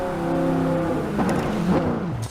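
Ford Mustang Boss 302 engine in the Forza Horizon racing game, a harmonic engine drone that rises and falls as the car revs and shifts, with a lower tone settling near the end.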